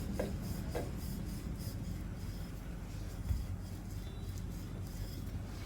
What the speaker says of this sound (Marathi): आटा आपण हलक्या हाताने लाटून घेऊया आपोआप गोल फिरतो बघा तो पराठा